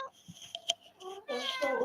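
A house cat meows a few times during a live England v Sweden women's football watch-along, short nasal calls near the mic with a more drawn-out cry at the end, over quiet room noise.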